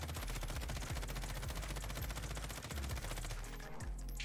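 Sustained automatic fire from an M13 assault rifle in Warzone, rapid steady bursts running nearly the whole time, loud and close, tapering at the end.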